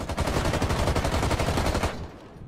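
A fast, unbroken burst of automatic gunfire with heavy recoil in Rainbow Six Siege Outbreak, fired while on Adrenal Surge, rattles loud and close for about two seconds before cutting off.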